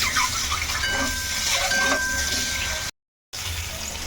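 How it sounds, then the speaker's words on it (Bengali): An egg frying in hot oil in a pan: a steady, bright sizzling hiss runs throughout, cut by a short moment of silence near the end. "এই যে ডিমটাকে এখন একটু ভেজে নেব"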